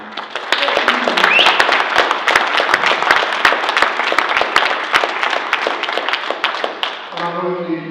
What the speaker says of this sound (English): Round of applause for them guys.